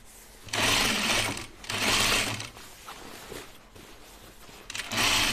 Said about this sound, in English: Let's put a little bit of a gathering stitch in.